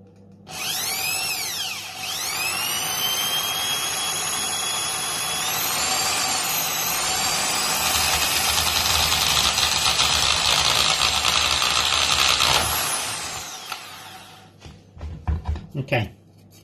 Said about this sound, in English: we just need to carefully and slowly drill some holes through the can